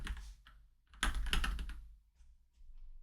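Keyboard keys pressed in quick clusters, a short burst of clicks, then a denser run of taps, then faint scattered presses, close and alone with no talking.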